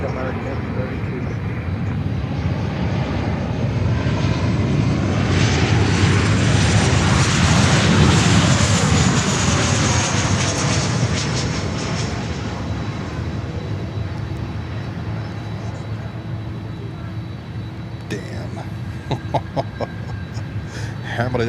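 A United Boeing 737 airliner roars past at Miami airport, its engine noise swelling loud and broad as it passes, then fading, with a voice talking over it.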